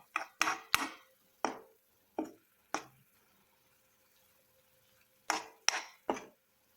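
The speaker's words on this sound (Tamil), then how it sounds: "லோ ஃப்ளேம்ல வச்சு நல்லா கிளறி விடுங்க" Spoon scraping and stirring onion masala for onion thokku in a pan on a low flame, a handful of short wet clinks and squelches in two quick bursts separated by a quiet pause, close and fairly soft.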